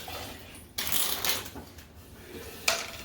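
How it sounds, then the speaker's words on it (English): A deck of playing cards riffled and shuffled during a tabletop card game, brief crisp ruffling bursts, close and fairly quiet, with no talk. "I still got to shuffle a bit"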